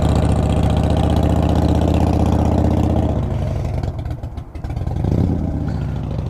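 A 2014 Harley-Davidson Breakout FXSB motorcycle idles with a steady, loud low rumble for about three seconds, then the engine note drops and wavers briefly before settling back into a throaty idle.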